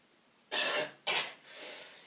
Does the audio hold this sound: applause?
no